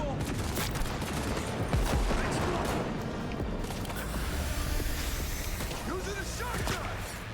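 Shotgun fire in the Cyberpunk 2077 Phantom Liberty video game: a run of sharp blasts cracks through a dense, noisy firefight, with mechanical clatter and creaks, at a fairly moderate level.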